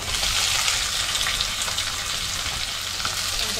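Chopped onion hits hot tempering oil for a cabbage and chana dal dish, giving a loud, steady, hissing sizzle close up with no pause.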